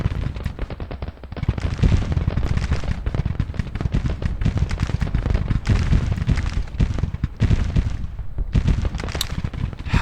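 A Civil War battle at Antietam in Grand Tactician: The Civil War, with dense, continuous crackling musket and rifle fire and occasional heavier booms, a steady loud barrage throughout with no talking.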